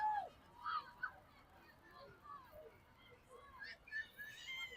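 Several voices let out honking, goose-like calls in scattered bursts, imitating geese, over a faint background of crowd noise at a high school women's lacrosse game.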